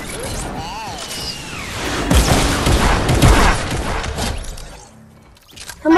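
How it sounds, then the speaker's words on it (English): Rocket launcher blasts in a creative-mode shooter game, a chaotic burst of loud booms, crashes and shattering impacts that peaks in the middle and fades, with game noise and faint voices mixed in. "Somebody blow a rocket launcher."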